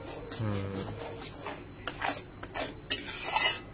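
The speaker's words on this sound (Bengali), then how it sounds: "এবার এটাকে একটু ভালো করে নেড়ে নেব।" Pineapple chutney is stirred in a pan, giving soft rasping, scraping strokes in uneven bursts over a quiet low background, with no voices.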